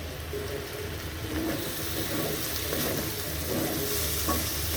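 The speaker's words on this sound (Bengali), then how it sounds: "এখন এই শুটকিটা মশলা দিয়ে সব কষাবো।" Dried fish (shutki) sautéing with spices in a pan, giving a steady close frying sizzle with soft stirring scrapes throughout and no talk.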